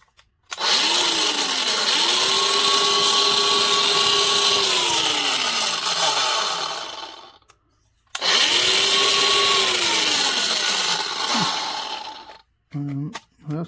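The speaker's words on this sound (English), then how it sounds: "this is a grinder." A Dewalt 20V grinder runs twice, loud and close, spinning up to a high whine, holding for several seconds, then winding down, with brief clicks at the end.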